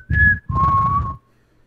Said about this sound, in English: this is whistling, like the actual sound effect.